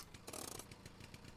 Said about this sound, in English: Oh, handbrake.